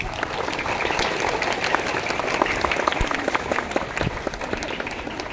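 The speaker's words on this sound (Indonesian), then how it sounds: "Tepuk tangan untuk kita semua." Students and staff clap at a Monday flag ceremony in an Islamic primary school courtyard, a steady crowd applause with scattered sharp individual claps, fairly loud throughout.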